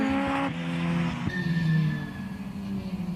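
Modified Ford Escort race cars, Mark II among them, race through corners at the Anglesey circuit, with engines howling as they shift and drop revs and tyres briefly squealing, loud and close.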